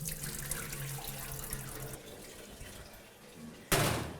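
Water running from a kitchen tap while short grain rice is rinsed for khichdi, a steady close splashing flow that swells into a louder gush near the end.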